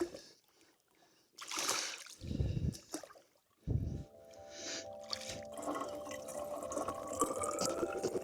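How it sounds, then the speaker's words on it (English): A water bottle is filled with cold lake water in the Alaskan wilderness: splashes and sloshing as it is dipped, then a steady gurgling fill with a rising tone, close up and without talk. "I'm gonna fill up my water with some cold water from the lake"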